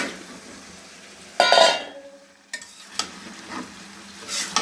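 Fish cooks with tomatoes in a pan: a short burst of sizzling and stirring, followed by a few scrapes and light metal clinks, close by and without talking.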